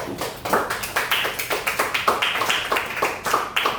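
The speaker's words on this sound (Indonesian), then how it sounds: "Ayo beri tepuk tangan untuk kelompoknya Cinta juga." Classroom applause for a student group: a quick, fairly even run of hand claps from a small class, close and moderately loud, with no talking over it.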